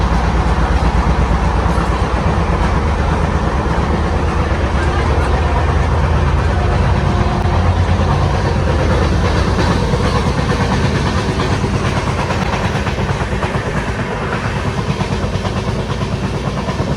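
A passenger train on the long-distance run from Rajkot to Haridwar makes a steady, dense rumble with a low roar and faint rhythmic clatter that holds evenly loud throughout.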